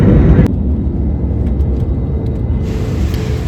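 A loud, steady low roar of an airplane in flight from Calicut to Mumbai, continuous engine rumble heard from inside the cabin with a few faint clicks.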